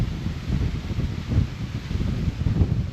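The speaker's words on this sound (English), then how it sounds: "I don't know if you can tell how windy it is" Wind blows across a garden trench in uneven low gusts, a soft rushing and rumbling with faint rustling, fairly close and moderate in level, with no talking.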